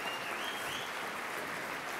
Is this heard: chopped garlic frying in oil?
no